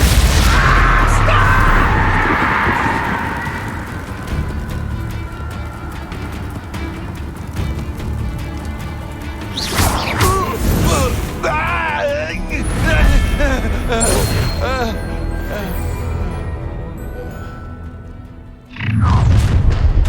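Confringo explosive spell blasts in the Hogwarts Legacy video game: heavy booms and crackling bursts cluster in the second half amid a loud, busy battle din. A voice speaks over the action.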